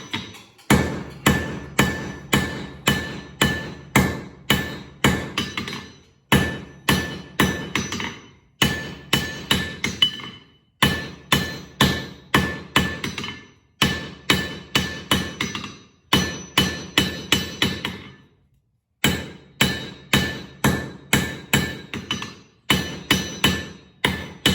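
A forging hammer strikes hot steel on an anvil while drawing out a flint striker, sharp ringing blows landing in quick rhythmic bursts of about four to six, separated by short pauses, close and loud.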